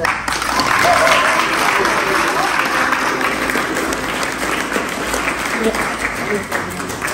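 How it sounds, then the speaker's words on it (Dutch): Loud, thunderous applause from an audience of schoolchildren and guests at a children's art event in Zandvoort, dense clapping rising quickly and sustained throughout with some crowd noise. "Voordat we beginnen wil ik eerst een denderend applaus voor Marjane"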